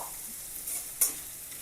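Long thin onion strips fry with a soft, steady sizzle toward light brown, broken by a spoon scraping and clinking against the pan once partway through.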